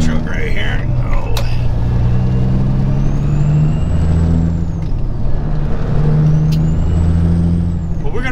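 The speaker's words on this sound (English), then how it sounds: "get out of the way of this log truck right here" From the cab of a flatbed truck on a wooded road, a log truck goes by with a loud, deep diesel rumble that swells and fades, along with faint high whines and brief hisses.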